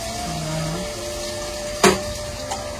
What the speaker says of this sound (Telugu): ఇలాగా పులుసు పోసేయాలి.